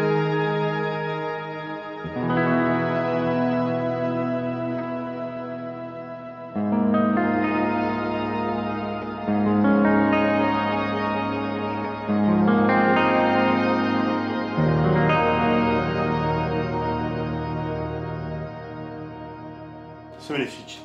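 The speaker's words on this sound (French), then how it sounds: "Le Crystal Cloud, alors ça c'est les Shimmer Reverb" A Boss GT-1000 multi-effects guitar patch called Crystal Cloud plays shimmer reverb: sustained guitar chords bloom into bright, octave-rich washes that swell and overlap across several phrases, loud and alone.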